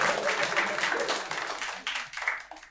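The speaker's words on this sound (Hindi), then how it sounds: "तालियां बजती है वैसे इस" A stand-up comedy crowd breaks into applause, dense clapping that swells and then tapers off over a few seconds, heard alone without speech on top.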